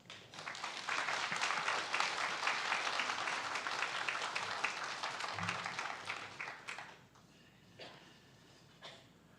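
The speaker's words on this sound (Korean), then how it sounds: "환영하는 박수하고 우리 말씀 나누겠습니다" A church congregation claps in welcome for the preacher at a Sunday service, a sustained wash of many hands lasting several seconds before fading into room quiet with a few scattered shuffles.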